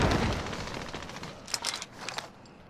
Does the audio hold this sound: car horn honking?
no